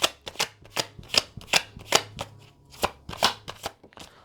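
Tarot cards are shuffled for a reading in about a dozen distinct, close slapping strokes at a fairly even pace, with no voice over them.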